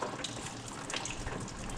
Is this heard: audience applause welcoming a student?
no